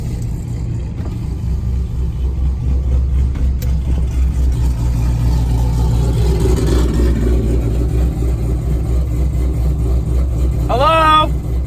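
A Subaru WRX engine idles steadily and then pulls away, a low continuous rumble that rises slightly as it drives off, heard close with faint background noise.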